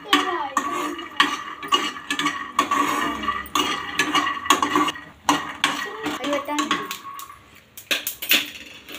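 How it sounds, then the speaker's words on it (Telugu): Peanuts roasting in a pan before making popcorn clatter and scrape under stirring, with a busy run of close metallic clinks and rattles in uneven bursts. "పల్లీలు వేగుతున్నాయి."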